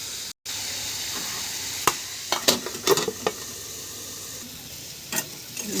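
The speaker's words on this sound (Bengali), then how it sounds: "এবার একটু চাপা দিয়ে ঝিঙে ও আলুটাকে ভেজে নেব তেলের মধ্যে।" Ridge gourd and potato fry in oil, giving a soft, continuous sizzle broken by a few sharp clicks and scrapes from stirring, with no voices.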